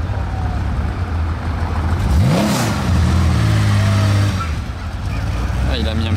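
A supercar's engine blips hard in a Paris street, a short throttle rise and fall over steady low traffic rumble, with people talking nearby.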